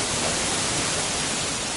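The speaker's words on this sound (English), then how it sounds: "It's a really loud waterfall." A loud waterfall in the video game Black Myth: Wukong roars as a dense, steady hiss of rushing water, constant and close, with no other sounds breaking through.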